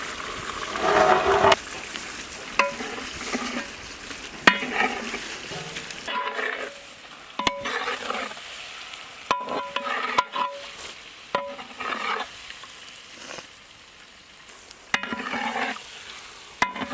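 Boiled goat brain fries with spices in a pan, a steady sizzle broken by repeated scraping stirs and clacks of a spatula, loud and close with brief quieter pauses between strokes.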